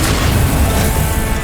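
Confringo blasting spell explosion in the video game Hogwarts Legacy: a loud, sustained deep boom rumbling through the whole moment, heavy low-end blast with no talk over it.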